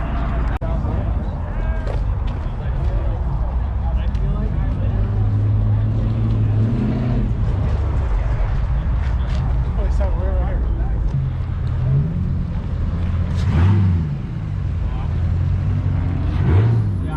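Car engines rev and roar at a big car meet in Michigan, including a Ferrari, with several rising revs over a constant crowd din while people shout and talk nearby.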